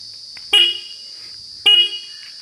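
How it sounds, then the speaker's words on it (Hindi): Two short, loud honks from a Honda CB Unicorn motorcycle horn sound close by, evenly spaced over a steady high background hiss. "हॉर्न"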